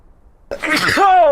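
One loud, close sneeze bursts out after a short silence and ends in a voiced, drawn-out tail.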